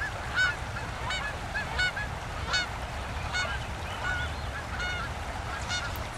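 Canada geese honk repeatedly at a beaver-made wetland pond, a string of loud, evenly spaced calls over a steady outdoor rumble.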